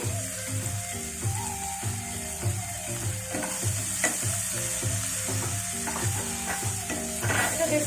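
Spices for an Indian vegetable thali fry and sizzle steadily in a pan. A spoon scrapes and stirs through them in a regular rhythm, close up, with no talking.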